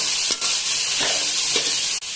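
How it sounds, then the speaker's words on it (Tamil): Chopped ivy gourd stirred and sautéed with onion, curry leaves and asafoetida in a pan without oil, giving a close, steady soft sizzle with scraping stir strokes and a sharp click near the end. "நல்லா வதக்கிக்கலாம்"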